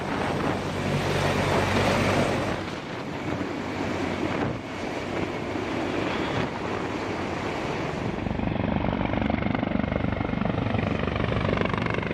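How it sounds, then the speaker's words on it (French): A Sikorsky heavy-lift helicopter, able to carry cargo on an external sling, with steady rotor roar and turbine whine, loud and continuous, mixed with heavy wind and water-like rushing noise. "Cette version d'hélicoptère Sikorsky peut facilement transporter plus de 16 tonnes de fret"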